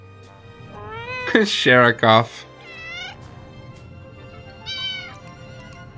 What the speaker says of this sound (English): Ah, there's the kitty.